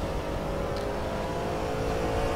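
In a racing video game at Suzuka, a GT4 race car being lapped gives a continuous, even engine drone for a couple of seconds, with no talk.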